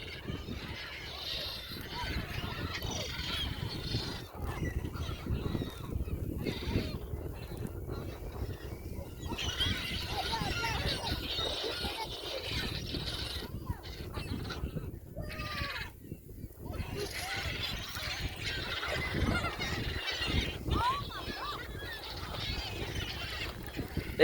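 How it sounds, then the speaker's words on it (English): A large flock of seagulls crowds a lake parking lot, giving constant overlapping squawks and cries up close and at a distance, mixed with wind noise and some nearby voices. "attack of the seagulls."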